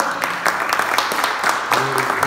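A church congregation applauding, scattered sharp claps in an irregular rhythm, with a voice and faint tones sounding underneath near the end.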